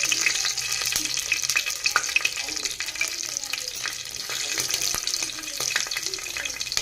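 Green chillies and onion fry in hot oil for a vegetable pulao, a bright, crackling sizzle with scattered pops and light stirring clicks, steady and close-up, with no one talking.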